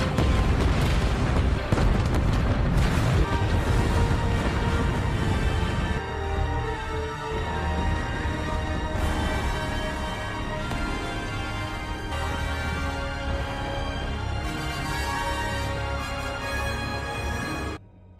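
Imperial weapons firing on command in a Star Wars scene, heavy booming blasts and rumbling explosions up front that give way to a sustained orchestral score.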